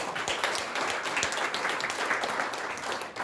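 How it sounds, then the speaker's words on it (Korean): Audience at an academic conference marking the 74th anniversary of the founding of the Republic of Korea stands and applauds, a dense, steady wash of clapping filling the room without pause. "우리 일어나서 박수라도 하죠."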